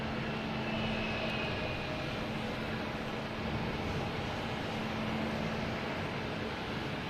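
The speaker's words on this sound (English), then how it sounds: "we got United Airlines 1693 coming in from Chicago" A United Airlines Boeing 737-900 arriving from Chicago at Boston Logan Airport produces a steady, broad engine roar. The sound is continuous and fairly distant, with no talking over it.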